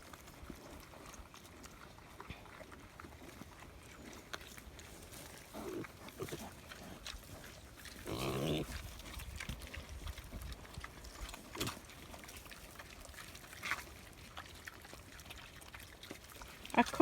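Pigs munching and slurping at their feed at feeding time on a Portuguese farm, wet chewing and snuffling sounds with an occasional grunt, fairly quiet and close.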